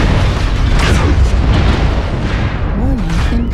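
Incoming missile explosions in MechWarrior: continuous heavy booming blasts and rumbling detonations, loud and close, with whining electronic tones rising near the end.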